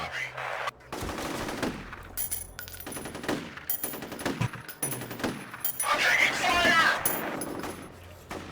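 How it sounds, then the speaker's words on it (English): Rapid gunfire from the F.E.A.R. video game, with dense machine-gun bursts and sharp shots rattling through most of the stretch, mixed with game noises and voices talking over the shooting. "He just has his arm around the wall and he's just shooting blind, man."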